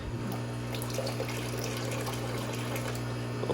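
Water, with shrimp in it, is poured fast into a new aquarium tank. The splashing flow is steady and continuous, close to the microphone, with no talk.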